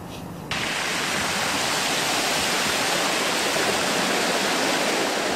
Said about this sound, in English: Waves of dirty water crash upon the sidewalk here on Bayless Street